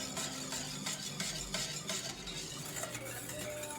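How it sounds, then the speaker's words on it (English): Steady scraping and swishing of a spoon stirring custard in a pot on the stove, soft and continuous with faint rhythmic strokes and a low background hum. "I've been stirring for about 20 minutes or so."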